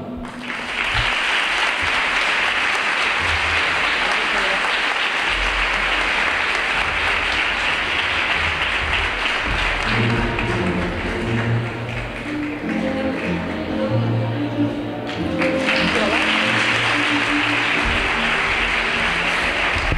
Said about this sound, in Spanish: Vamos a recibir con un aplauso y agradecerle el buen trabajo